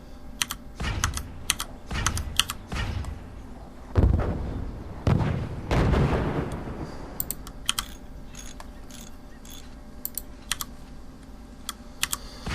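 Mortars firing in the video game Forts: a few heavy booming launches and impacts in the middle, with rapid keyboard typing clicking throughout.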